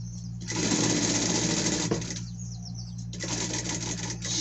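A sewing machine stitches a seam on a small pet skirt in two loud, fast runs with a brief pause between them, close and clear with no talk.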